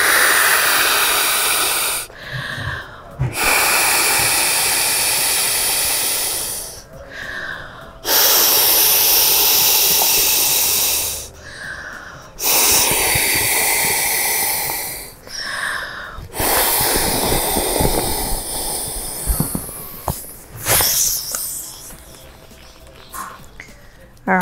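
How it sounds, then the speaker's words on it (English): Long strong breaths blown into the manual inflation valve of a Klymit Luxe pillow, four loud rushing exhales separated by short pauses, followed by softer rustling and handling. "we're going to inflate the pillow now just through this single manual inflation valve here, which is just gonna blow it up"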